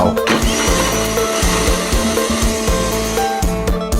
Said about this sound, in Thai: เอาพริกแห้งไปแช่น้ำนำมาปั่นกับน้ำเปล่า